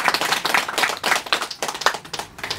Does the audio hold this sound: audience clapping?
yes